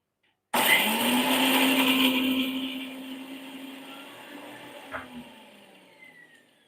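A mixer grinder whirs loud and close as it grinds green chilies, raw mango and coconut, a sharp start followed by a steady roar that slowly fades, with a clack near the end.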